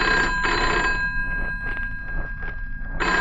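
A telephone bell rings loudly in a home in an Egyptian radio drama, sounding in repeated ringing bursts with short gaps between them and no voices.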